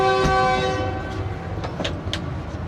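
A railcar's whistle sounds loud and sustained as the train departs on the Shalimar Express line from Lahore, a steady horn tone followed by station noise and a few short clanks.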